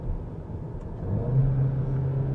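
A 2018 Volkswagen Arteon accelerating as its turbo spools up, a steady engine rumble and whir that rises in pitch and strength partway through, heard from inside the car.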